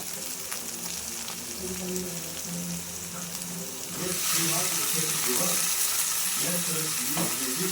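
Steady oily sizzling of brinjal frying in oil throughout, growing louder and fuller halfway through, with faint background voices and a hint of clattering.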